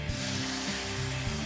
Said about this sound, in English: Hear that sound, that sizzle?